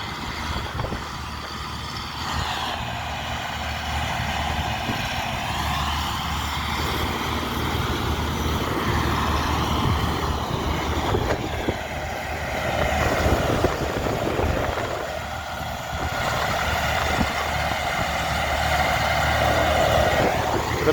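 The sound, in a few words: vintage tractors 8111 and Belarus working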